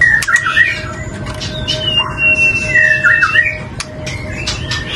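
A caged pentet shrike delivers repeated sharp, squeaky chirps and squawking whistles, close and loud, in irregular bursts over a steady background hum with no speech.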